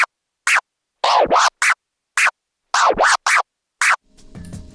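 Rolling baby and stab scratches cut on a DJ controller, a run of sharp, quick scratch bursts in a tight military-style rhythm, close and clear with brief gaps, ending in a faint low hum.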